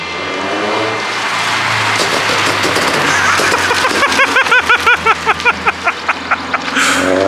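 A second-generation Subaru BRZ with FA24 engine and ECUtek burble tune drones loudly, then fires a rapid string of about a dozen crackling exhaust pops as it lets off.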